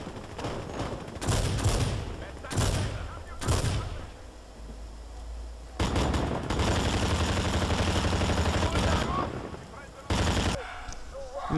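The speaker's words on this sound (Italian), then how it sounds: "Tipo tutti che stanno sparando qui." Rapid bursts of automatic gunfire and explosions from a Medal of Honor multiplayer match, loud and dense, coming in repeated volleys with short pauses between them.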